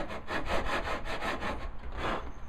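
Hand saw cutting through walnut wood, about ten even rasping strokes back and forth, close and steady with no talk.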